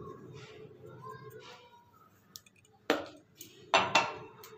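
Urad dal paste is mixed with Gobindobhog rice flour in a bowl: a soft, quiet mixing sound, then a few sharp clinks of a utensil against the bowl.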